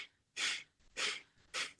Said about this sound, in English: we take some very quick little puffy breaths out through the nostrils